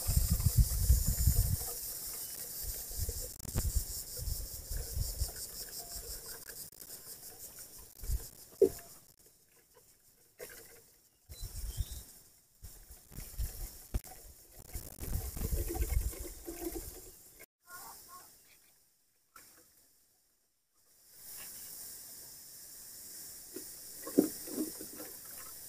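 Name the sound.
watering freshly sown seeds in a planting tray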